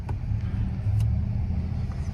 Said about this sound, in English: Gosh, so much traffic.